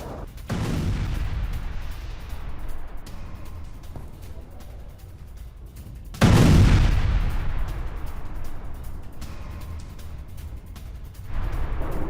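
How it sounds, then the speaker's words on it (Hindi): Heavy bomb blasts from a MiG-29 strike using GBU-62 bombs on Russian positions, a loud sustained rumble with a sharp new impact boom midway, rolling on continuously with no voices. "GBU-62 बमों से रूसी पोजीशंस पर बमबारी किए"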